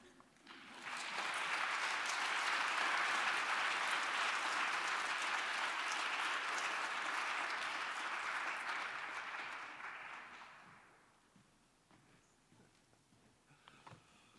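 Sustained audience applause fills a hall at an academic symposium, starting abruptly, holding steady and loud for about nine seconds, then tapering off into quiet room noise with a few scattered claps.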